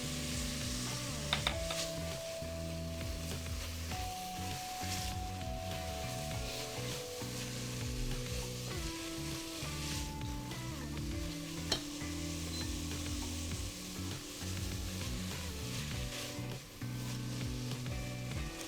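Onions with a small pinch of salt sizzle and fry steadily in a pan as they begin to caramelize, a continuous close crackle with occasional stirring, with musical tones running underneath.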